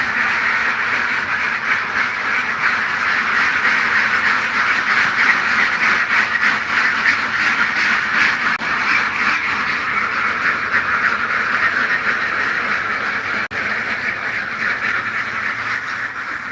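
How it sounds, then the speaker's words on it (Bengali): Ducks at a duck farm quack continuously as a dense overlapping chorus, loud and fairly close, with no speech over it. "ওই যে একটা হাঁসের খামার ওখানে কিছু হাঁস আছে"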